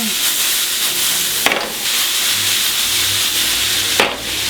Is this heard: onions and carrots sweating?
yes